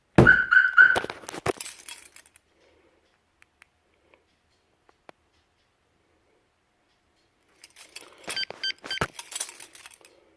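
A Ford F150 truck alarm reacts to the vehicle being struck, giving a loud burst of harsh tonal chirps, then near silence, then a second jangling tonal burst several seconds later.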